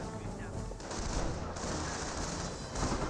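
Dense gunfire in a Company of Heroes 1 battle as a US rifle squad takes hits from Panzer Elite troops, a steady crackling barrage of overlapping shots with no pauses, loud throughout.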